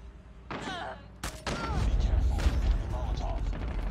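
BY15 shotgun firing in Call of Duty Mobile: a few sharp, loud blasts at irregular intervals under steady game noise, with someone talking over them.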